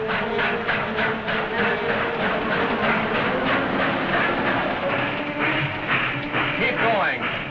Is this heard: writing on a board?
no